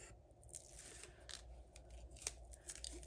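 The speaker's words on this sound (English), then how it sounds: "Let's go ahead and peel the backing off." Adhesive backing is peeled off Stampin' Up! craft pieces, heard as quiet, close crackling pulls and small tearing scrapes spread in short bursts over a few seconds.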